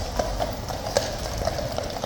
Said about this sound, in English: how quickly the horse changed its direction, folks, when it's leaping left to right all over the place